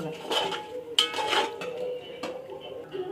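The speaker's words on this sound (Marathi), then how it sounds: "थोडं हलवून देणार" Cooked mutton for pulao stirred in a pot, metal spoon clinks and scrapes against the sides in uneven strokes, close and moderately loud, with faint voice-like murmur in places.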